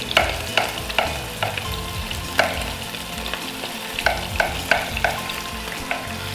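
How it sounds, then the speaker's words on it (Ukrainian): Halved champignon mushrooms fry in a pan, a steady sizzle broken by regular sharp scrapes and taps of a utensil stirring them, close and clear with no speech. "Це ми обсмажуємо грибочки."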